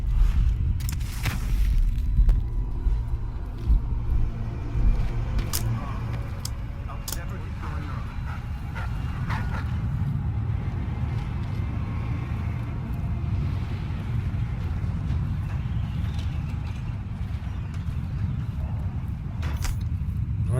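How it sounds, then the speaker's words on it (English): Low thunder rumbles steadily in a stormy Dishonored 2 game scene, a deep continuous roar with a few sharper cracks early on, heard under someone talking. "And I think a storm is coming."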